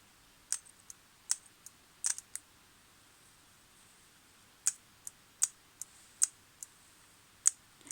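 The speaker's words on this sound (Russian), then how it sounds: "Слышны характерные щелчки." The solenoid valve of an Ozon 2107 carburetor clicks sharply when powered with 12 volts, giving about a dozen crisp, irregularly spaced ticks in a quiet workshop, some doubled, faint but distinct.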